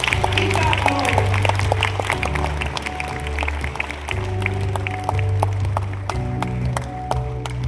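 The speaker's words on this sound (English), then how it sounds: "big round of applause as we celebrate the official launch of the report of Investors Survey 2025" At a SEBI and NISM investor event, an audience claps for the launch of the Investors Survey 2025 report: sharp, scattered hand claps ring out over loud, sustained background music for several seconds.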